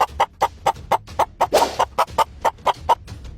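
A hen clucks in a steady, rapid series of short sharp calls, about a dozen in a row, close and clear with no other sounds.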